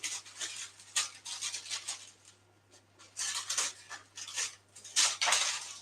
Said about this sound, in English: So excuse the rustling noise just while I trim this.